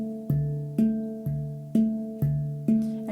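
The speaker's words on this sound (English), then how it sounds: "I'm using the very edge of my thumb so I can get that nice pure mallet sound" A handpan is struck with the very edge of the thumb, producing clean, pure mallet-like notes, six evenly spaced strikes each ringing with a sustained harmonic tone that decays before the next, close and moderately soft.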